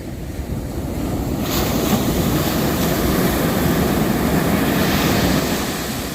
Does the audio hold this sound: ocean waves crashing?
yes